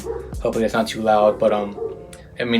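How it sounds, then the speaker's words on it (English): A dog barks outside while someone talks over it indoors; the yips and barks come through under and between his speech at moderate volume. "I apologize if you hear my dog outside barking"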